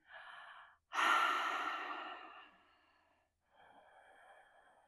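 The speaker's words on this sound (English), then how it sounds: "And focus on your Ujjayi breathing." Ujjayi breathing during a yoga practice: a soft, ocean-like breath in, then a louder, long, hissing breath out that fades gradually, followed by another quiet inhale. The breaths are close and there is no talk.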